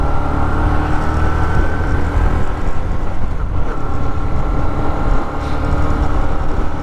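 A 2023 Honda CB125F motorcycle rides through an industrial estate, a steady engine drone close by, mixed with rushing wind noise and a brief dip near the end, no talk.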